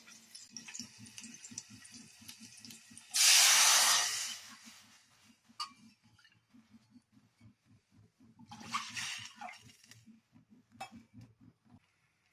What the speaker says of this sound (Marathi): आपण आता दोन वाटी पाणी टाकू त्याच्यात